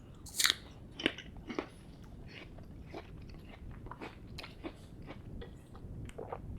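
Someone chews a mouthful of peanut butter close up. Soft, sticky bites and chewing noises, a few slightly crunchy, come irregularly and quietly over a low background hiss.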